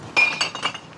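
Glass bottles clink together as they drop into a recycling bin: a bright, sharp clatter followed by a few quicker, lighter chinks that fade out within a second.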